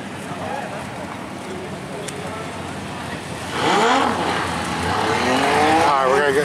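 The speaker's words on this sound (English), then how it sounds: "Try to get some pictures of burnouts here." Drift cars doing burnouts at a Driftcon 2018 drifting event: a revving engine drone builds, then a loud wavering tire squeal with rising and falling pitch takes over, while people talk nearby.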